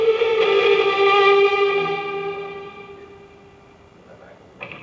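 An electric guitar chord rings out through a Morning Glory drive pedal with reverb, bright and sustained, then decays slowly into a soft echoing tail before a faint new strum at the end.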